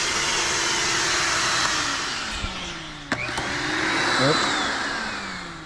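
A shop-style vacuum cleaner used for cleaning vehicles runs with a steady loud roar, its whine shifting slightly as the nozzle moves, with a few knocks and clicks along the way.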